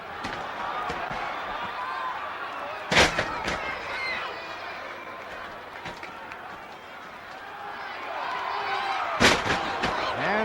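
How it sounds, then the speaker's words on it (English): Pro wrestlers trade body slams on the mat at a 1963 NWA title match: two heavy thuds stand out about six seconds apart over a steady roar of the arena crowd. "And they take turns at body slams."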